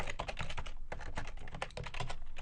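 Steady, rapid typing of names on a computer keyboard, close and clear, a dense run of key clicks with a brief pause near the middle and no voices.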